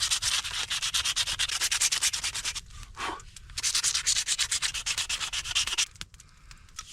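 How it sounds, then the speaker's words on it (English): Steady rhythmic rasping of sandpaper rubbed back and forth over a hand-forged knife blade at a camp, loud and close, with a brief pause near the middle and a softer stretch at the end. "Now we sand."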